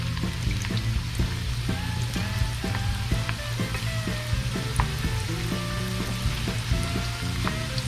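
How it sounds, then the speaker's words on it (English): Potatoes for Wing Stop-style fries sizzle steadily in hot oil in a pan, a loud continuous crackle with scattered pops and bubbling throughout, no voices. "So I'm gonna toss these potatoes in right now."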